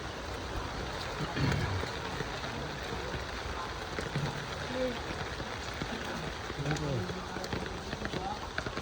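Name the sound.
rain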